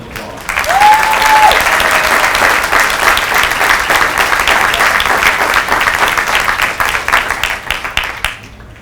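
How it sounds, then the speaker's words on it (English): Sustained applause from a large audience at a Marine Corps recruit graduation ceremony, steady dense clapping filling the hall for several seconds before tapering off at the end. "let's give him and all our recruiters out there a round of applause"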